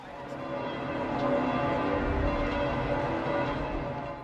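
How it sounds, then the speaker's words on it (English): Church bells ringing out around St. Peter's in Rome, a layered peal of overlapping tones with a low ambient rumble, steady across the clip with no speech. "As the bells rang out around St. Peter's, Pope Francis seems to have won over the fai"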